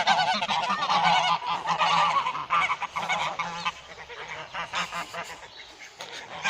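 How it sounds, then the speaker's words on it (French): Loud, overlapping honking from a flock of geese close by, calls tumbling over one another continuously, with occasional quieter gaps toward the end. "Excusez-moi si vous m'avez pas fort entendu avec les oies."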